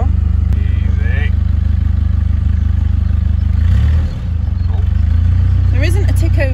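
Narrowboat diesel engine revving steadily up toward 1500 rpm, a loud continuous low drone with a brief dip midway; people talk over it.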